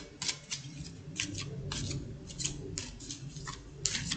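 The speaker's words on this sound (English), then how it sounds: "You tell me when to stop shuffling." Crisp, rapid riffling clicks of playing cards being shuffled repeat in quick bursts over a faint low background hum, close and soft.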